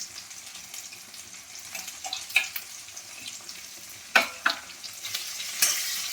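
Ginger, cumin and other spices stirred in a hot pan while cooking for chicken soup, giving a steady low sizzle with sharp scraping strokes of a spatula against the pan at irregular intervals.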